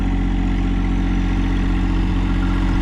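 A farm tractor's engine idles close by, a steady low throbbing chug with even firing pulses that continues unchanged, with no voices over it.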